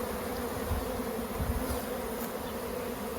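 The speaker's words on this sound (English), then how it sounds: "I'll let those bees settle there, and they will probably just gather all around the outside." A honeybee swarm settling on a laundry basket fills the air with a dense, continuous buzzing hum, close and steady, with no voices.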